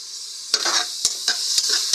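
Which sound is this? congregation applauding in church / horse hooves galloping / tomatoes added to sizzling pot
tomatoes added to sizzling pot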